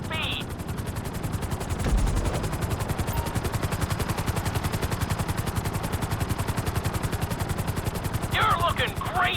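Helicopter in the GTA 5 video game during a flight training course, its rotor thumping in a steady, fast, loud pulse throughout, with sharper bursts near the start and end.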